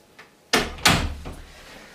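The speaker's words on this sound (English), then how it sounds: "I'm going to shut the door." A door shut indoors during a home podcast recording: two sharp, loud thuds half a second apart, the second with a slight rattle, then a brief fading tail.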